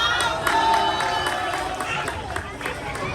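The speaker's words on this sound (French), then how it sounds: "On les applaudit bien fort" Crowd at a Haitian Flag Day celebration breaks into applause and cheering, a dense, lively mix of clapping hands and voices with babble throughout.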